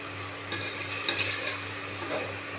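Yogurt marinade being stirred into biryani masala in a pan, giving a soft, steady sizzle with gentle scraping and mixing strokes, close up and with no talking.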